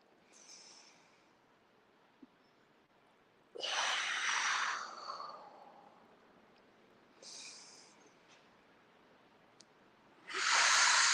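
Deep breathing during a tai chi session: slow, separate breaths, a few airy inhales and exhales with quiet gaps between them, close and soft.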